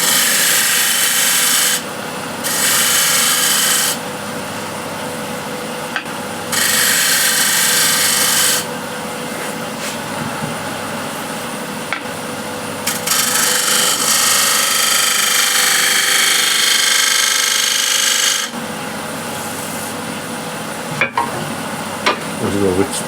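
A 16mm ball gouge cuts wood on a spinning lathe, giving a steady hiss with bursts of brighter scraping as the tool engages and lifts, close and continuous over a low motor hum.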